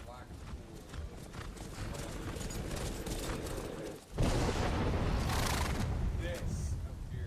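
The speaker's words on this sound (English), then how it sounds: "A demon horse. Behold, Shadowmere!" Rapid clip-clopping hooves of the demon horse Shadowmere in the Skyrim video game, rising into a louder rush partway through, with someone talking over the game sounds.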